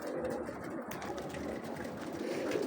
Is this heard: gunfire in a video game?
no